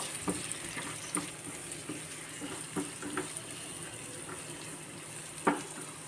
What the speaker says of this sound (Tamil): தக்காளியும் வெங்காயமும் நல்லா சிம்மில் வச்சு நல்லா வதக்கிடுவோம்